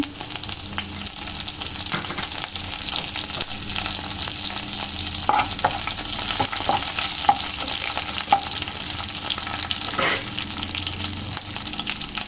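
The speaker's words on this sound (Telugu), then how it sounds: "ఇప్పుడు మనము కరివేపాకు వేస్తున్నాము." Curry leaves and slit green chillies fry in hot oil for an egg curry, giving a steady, close sizzle with occasional clinks and scrapes of stirring and no talking.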